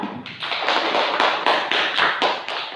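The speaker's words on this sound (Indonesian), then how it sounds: "kasih tepuk tangan untuk Tiara" Classroom applause for a student named Tiara during a teaching session: a small group claps in a steady rhythmic pattern of repeated hand claps, close and fairly loud, with no talking over it.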